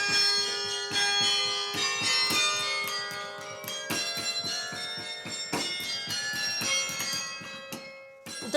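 Church bells ring in a rapid, overlapping peal, many strikes layering into a resonant wash that fades out at the end.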